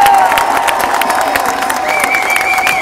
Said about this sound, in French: J'aimerais que l'on réserve une chaleureuse main d'applaudissement à l'instigateur de ce rassemblement aujourd'hui